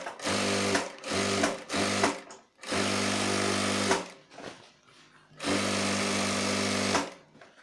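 A sewing machine stitches a shirt in loud, close bursts of rapid mechanical whirring. Three short runs are followed by two longer ones, separated by brief pauses, with no talking.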